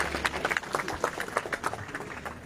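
Audience applause at a success-story presentation, a crowd clapping in a dense, steady patter that holds through the whole stretch at moderate level with no talk over it.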